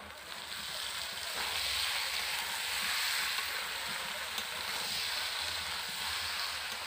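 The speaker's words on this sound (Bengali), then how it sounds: "এবার দিয়ে দেব ভেজে রাখা চিংড়ি মাছটাকেও, দিয়ে একটু কষে নেব।" Prawns that were fried earlier sizzle as they are stir-fried with young jackfruit in a pan, a steady broadband hiss that holds at an even level throughout with no talk.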